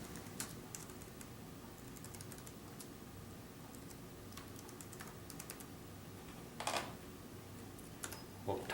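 Fingers type on a computer keyboard in quiet, scattered bursts of light clicking keys, with a couple of louder key presses near the end and no talking.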